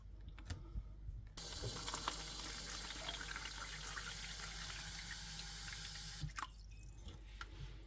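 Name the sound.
rinsing fermented tomato seeds under running water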